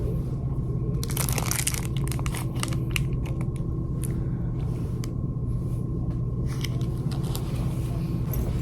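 Crunchy snack being eaten, with intermittent bursts of crisp crunching and crinkling over a steady low rumble from a car interior.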